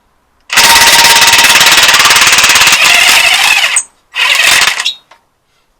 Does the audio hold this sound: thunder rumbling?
no